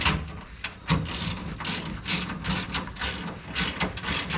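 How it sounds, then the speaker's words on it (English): A ratchet tightens the skid plate bolts on a 2015 Toyota Land Cruiser 200. Rapid clicking pawl bursts repeat in a steady back-and-forth rhythm, close by and fairly quiet. "So I'm just doing like we do on bolts, just tighten them."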